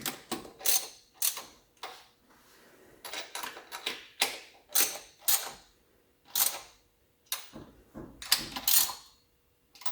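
A socket ratchet wrench clicking in uneven bursts of sharp, close ratcheting strokes separated by short pauses, while work goes on under the hood of a Pontiac Ventura.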